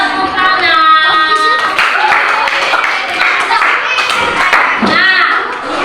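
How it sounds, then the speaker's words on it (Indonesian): Primary school class clapping hands together, loud and close, with several brisk bursts of claps mixed with children's excited voices and shouts. "Wah, mantap luar biasa. Tepuk tangan."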